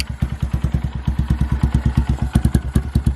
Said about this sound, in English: Gotta let the bike warm up and go take it for a little rip.